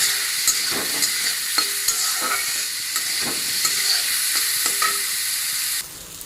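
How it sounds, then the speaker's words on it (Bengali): Salt and turmeric powder stir-fried in hot oil for rohu fish curry, a steady close sizzle broken by regular scraping clicks of a spatula against the pan, with no talking. "লবণ ভালো করে ভেজে নিই"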